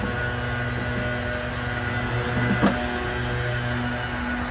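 Landscaping equipment runs during a full yard cleanup behind a parked 2022 Ford F150 Lightning. A continuous mechanical drone and hum persists in the background, steady and moderately loud, with one brief click partway through.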